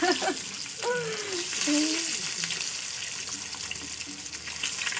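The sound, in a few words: egg frying in oil in a pan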